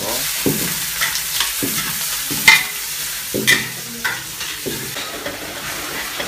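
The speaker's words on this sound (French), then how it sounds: "Là, l'huile est bien chaude, hein. Ouais. Je vais mettre les oignons." Onions go into very hot oil in a home kitchen on Rodrigues Island, giving a steady close sizzle with repeated stirring scrapes and soft clatters, and no voices.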